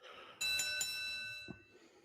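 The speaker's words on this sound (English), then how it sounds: "Can we get a louder bell, please?" A doorbell-like bell sound effect on a wrestling talk show rings once with a bright, sustained tone for about a second, followed by a brief softer knock.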